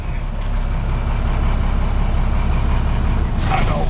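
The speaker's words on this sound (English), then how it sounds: "And the brakes going back on, out of gear." A ZIL-131 diesel truck engine rumbles steadily up close as it idles out of gear, with an air brake hiss near the end.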